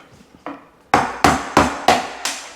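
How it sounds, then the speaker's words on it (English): Metal screwdriver struck repeatedly with pliers to knock out the knockout plug in a garbage disposal: one light tap, then five sharp, loud metallic blows at a steady rhythm, close up with no talking. "just take a screwdriver and take a hammer or pliers or whatever you have"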